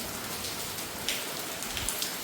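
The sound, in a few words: heavy rain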